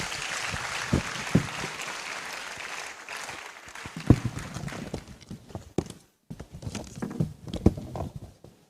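A crowd at a Supreme Court 150th anniversary celebration applauds to welcome the Chief Justice: dense, steady clapping for about four seconds, then thinning into scattered claps and fading out.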